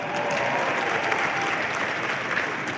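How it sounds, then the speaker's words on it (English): Applause from a large audience at a conservative political conference, a steady dense wash of clapping that holds loud and unbroken throughout. "y'all can give Texas a round of applause"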